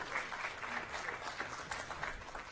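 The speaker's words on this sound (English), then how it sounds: "Give him a round of applause." Faint, steady applause from an audience at a recognition meeting, a continuous patter of many hands heard from some distance with no talk over it.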